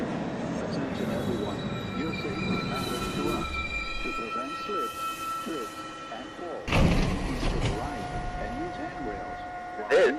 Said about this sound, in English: This is a 1 train going downtown towards Rose Street.